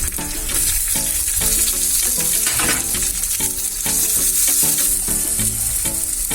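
Sliced small onions and curry leaves fry in oil while tempering for an aloe vera pickle, a loud, close sizzle with bursts of crackling and stirring, overlaid by a steady tonal backdrop.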